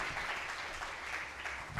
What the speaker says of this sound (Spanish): demos un aplauso de bienvenida al caballero